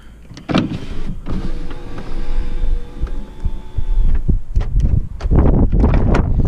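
The electric window of a Seat Arosa with a faulty door lowers with a steady whining motor hum lasting a couple of seconds, framed by clunks and handling knocks of the door being worked from inside the car.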